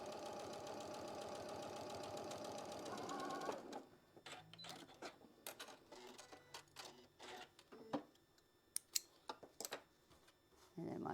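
A sewing machine stitches a quilt block, running as a loud steady hum for about three and a half seconds before stopping, followed by scattered clicks and handling noises of fabric being moved.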